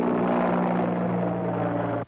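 A NATO helicopter close by during a 1999 patrol in Kosovo, its loud steady rotor and engine drone holding level for about two seconds before cutting off abruptly.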